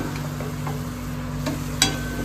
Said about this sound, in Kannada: ಸೊ ಅದು ಕೂಡ ಫ್ರೈ ಆಗಲಿ ಅಂತ ಹಾಕ್ತಾ ಇದ್ದೀನಿ.